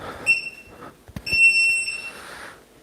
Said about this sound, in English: that's a nice beep on the timer